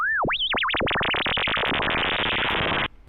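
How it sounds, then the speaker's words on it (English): A synthesized sine tone of t squared sweeps upward in pitch, wobbling at first and then turning into a dense, harsh buzz that holds steady for about three seconds before it cuts off abruptly. "you can do crazy things, like playing the sine of t squared"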